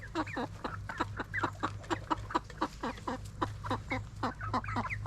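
Backyard chickens cluck steadily and close by while foraging around a tiny house homestead, a busy run of short rhythmic clucks and calls over a low background hum.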